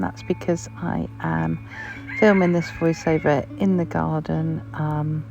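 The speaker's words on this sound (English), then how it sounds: "You will be able to hear my cockerel crowing in the background." Someone speaks steadily close by in an English cottage while a cockerel crows faintly in the background, its call partly buried under the voice.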